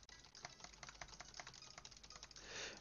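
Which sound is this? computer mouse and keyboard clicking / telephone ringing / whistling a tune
computer mouse and keyboard clicking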